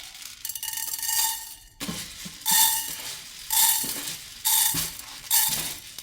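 Lentils are stirred in a pan with sesame oil, giving bursts of scraping, rattling and sizzling in several rhythmic strokes separated by brief lulls, close and clear with no talking.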